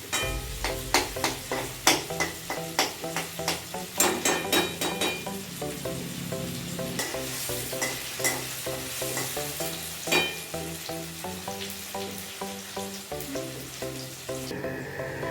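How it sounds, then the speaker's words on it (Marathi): Onions frying in a pan until well browned for dhaba-style anda masala, a close sizzle with repeated rhythmic stirring scrapes and clinks, busiest at the start and easing into steadier frying. "कांदा चांगला लाल भाजून द्यायचा"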